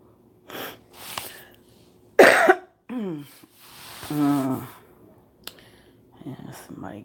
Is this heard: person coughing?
yes